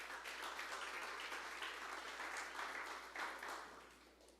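A church congregation applauds in sustained, even clapping that sounds somewhat distant and fills the room, then begins to fade toward the end.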